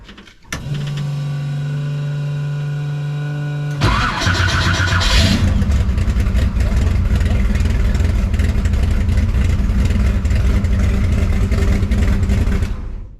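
An electric motor whines steadily, then a 1969 Camaro pro street car's engine cranks and catches, settling into a loud, continuous rumbling idle.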